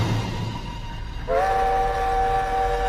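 A train approaches with a low rumble, then a sustained, steady horn blast sounds out close and loud, holding for over a second.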